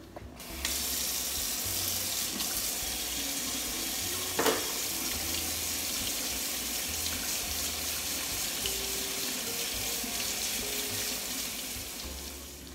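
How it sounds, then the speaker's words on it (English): A kitchen faucet gushes water to rinse glass etching cream off a glass piece, a steady splashing rush that starts abruptly and runs continuously, with one brief louder knock partway through. "it tells you to just run it under the water"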